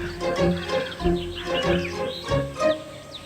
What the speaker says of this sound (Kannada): ಈ ಕಾಗೆಗಳ ಗಲಾಟೆ ತಡೆಯಕ್ಕಾಗ್ತಿಲ್ಲ